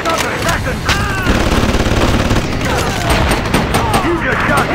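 Rapid, dense gunfire crackles almost continuously in close, overlapping bursts, mixed with shouting voices.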